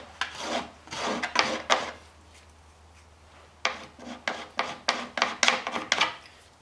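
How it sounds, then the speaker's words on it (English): A hand rasp scrapes back and forth across a piece of plastic pipe, giving steady rhythmic strokes in two runs split by a short pause. The filing is close and fairly loud, with no talking. "you can take a rasp and some 60 grit sandpaper on a piece of plastic pipe."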